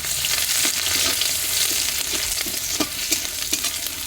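Crushed garlic, one dry red chili and radhuni seeds frying in hot oil in a pan where fish was just fried, a loud, dense, continuous sizzle with occasional stirring scrapes and no voice.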